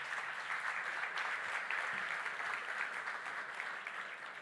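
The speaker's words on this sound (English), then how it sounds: "big round of applause for Rachel Shepard" Audience applause greets a designer taking the stage at a tech talk, a steady dense wash of clapping that holds evenly for several seconds before easing slightly.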